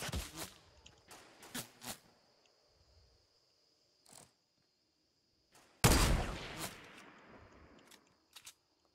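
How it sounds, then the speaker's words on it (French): Long-range enemy gunfire in Fortnite: scattered sharp cracks, a few isolated single shots with one louder close burst partway through, then quieter distant pops, with no talk. "Ouah, il me tire de tellement loin, lui."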